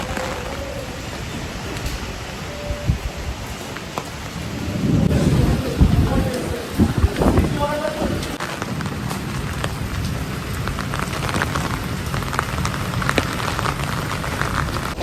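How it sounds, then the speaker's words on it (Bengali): Heavy rain pours steadily on a stormy day, with a deep rumble of thunder rolling through the middle, loud and close. "কি বিপদের মধ্যে পড়লাম বলো তো, কি জোরে বৃষ্টি হচ্ছে।"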